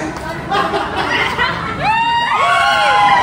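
Wedding guests at a provincial celebration shout and cheer together in a loud, continuous crowd roar, with rising whoops and excited voices swelling toward the end.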